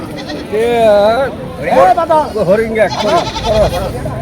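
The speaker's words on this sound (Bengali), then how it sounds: "ভেড়া কিন্তু এই হাটে উঠেছে, প্রচুর পরিমাণে ছাগল উঠেছে" Several goats bleat loudly in quick succession, their wavering cries overlapping against a murmur of crowd noise at a busy goat market in Garobazar, Ghatail, Tangail, Bangladesh.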